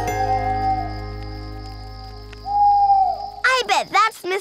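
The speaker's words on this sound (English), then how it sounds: "I bet that's Mr. Blue Jay's friend, Mrs. Owl." An owl hoots in a cartoon night scene in the woods, a few drawn-out hoots over a steady background hum, followed by brief animated chatter.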